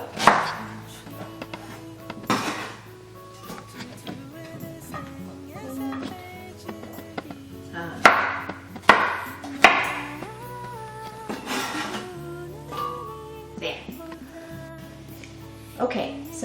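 A knife chops bulgogi ingredients on a cutting board, the cuts coming in uneven bursts of sharp taps. Faint background music plays beneath them.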